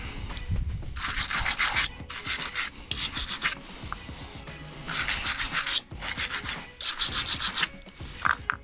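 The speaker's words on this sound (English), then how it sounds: "Sandpaper." Sandpaper scrubbing by hand in quick back-and-forth strokes, close and fairly quiet, forming rhythmic bursts of rasping with short pauses between sets, during work on a 1981 Peterbilt 359 truck.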